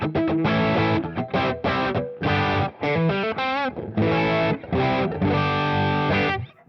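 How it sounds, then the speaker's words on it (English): Electric guitar played through an overdrive pedal on a single gain stage, loud and distorted, with a series of sustained chords and short riffs separated by brief pauses, alone without talk. "And here's what the overdrive sounds like."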